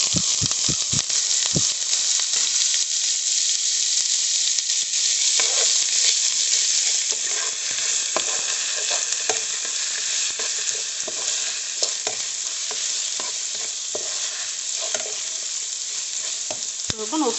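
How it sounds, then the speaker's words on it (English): Chopped onion sizzles loudly in hot oil for a Nigerian meat pie filling, a dense continuous hiss close up with scattered spatula scrapes and ticks throughout. "So we're going to fry this onion for about 2 minutes or so."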